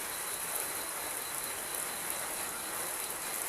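Rain falls steadily during a power outage, a dense, even hiss that stays constant throughout without gusts or breaks, with no voices or other sounds on top.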